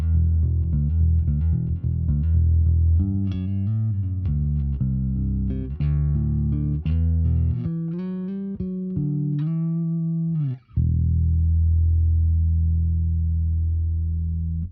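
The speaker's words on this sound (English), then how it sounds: "This is the underlying clean bass sound that I'm going to get out of" Clean electric bass played through a Helix into an 8x10 cabinet miked with a 52 dynamic mic, with a sequence of deep, sustained notes and a brief gap before a final held tone, no voices.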